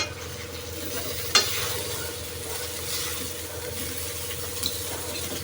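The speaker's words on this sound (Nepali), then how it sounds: "अब म यो काठी चम्मचले चलाउँदैछु।" Steady sizzling of frying noodles with a wooden spoon stirring and scraping, including a sharp clack near the start; no voices.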